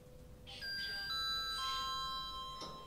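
A soft, electronic elevator gong chime from the Roblox game Miasto Złotych Łąk rings out in a few overlapping sustained tones, quiet and clean with a faint hum underneath.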